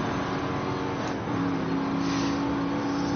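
Oldsmobile Toronado, a front-wheel-drive US car, accelerating in a racing video game, its engine a steady droning roar that rises slightly in pitch and intensity partway through, continuous and close.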